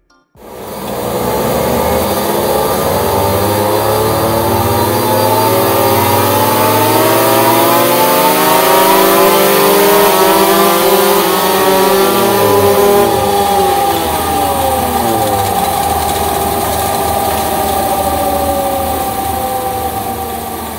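A Kawasaki Ninja two-stroke motorcycle revs hard on a dyno with a loud, sustained, rising engine wail that climbs through the gears and holds for about twenty seconds before easing off slightly.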